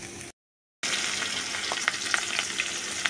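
Bitter gourd and potato stir-fried in a pan give a dense steady sizzle after a short gap, punctuated by small crackles and light stirring scrapes.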